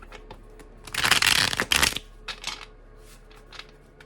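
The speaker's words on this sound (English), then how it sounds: "Let me shuffle." Tarot cards being shuffled in a quick, papery riffle burst lasting about a second, followed by a few softer flicks and taps, close and fairly quiet.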